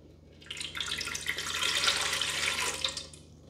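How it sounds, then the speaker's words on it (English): A cup of water is poured into a Ninja Foodi pot fitted with a rack, making a steady splashing trickle that builds for a few seconds and then tapers off. "And we're just going to add 1 cup of water"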